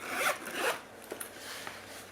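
A zipper runs in two quick pulls near the microphone, followed by soft rustling and light handling sounds, no voices.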